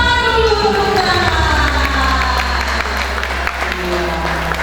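Children at an Easter Sunday school service in a church clap together, a sustained, steady burst of applause filling the room, with musical or voiced tones sounding underneath.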